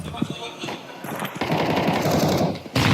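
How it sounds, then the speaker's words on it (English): Gunfire in a Counter-Strike 2 esports match between Falcons and Spirit, with sharp shots and a rapid rattling burst cutting through the game sounds while commentators talk over it. "He eats a grenade. Fires off a shot."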